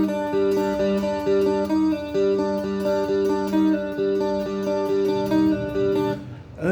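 Clean electric guitar picking the intro of a song, a steady repeating arpeggiated pattern of bright sustained notes, loud and alone with no talk, ringing out briefly at the end.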